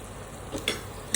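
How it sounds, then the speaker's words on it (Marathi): Ginger garlic paste sizzling with softened tomatoes in a pan, a faint low fry hiss with a couple of quick stirring scrapes, close and brief. "त्याच्यामध्ये आता थोडीशी अद्रक लसूण पेस्ट टाकून घेऊया आपण"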